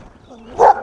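A small pit bull gives a single short bark close by, loud and brief after a moment of quiet whining.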